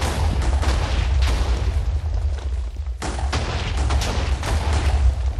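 Deep booming blasts and crackling bursts roll through a video-game bomb shelter as it is blown apart, a heavy low rumble with sharp hits at intervals, loud and dense.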